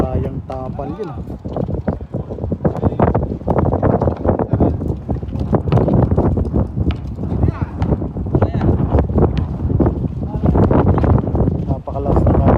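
Strong gusts of sandstorm wind roar and buffet the microphone throughout an outdoor basketball game, loud and continuous, with people's voices faintly mixed in.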